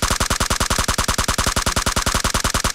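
Sustained automatic gunfire in Battlegrounds Mobile India, a fast even burst of loud shots repeating about eight to nine per second, close and dominating throughout.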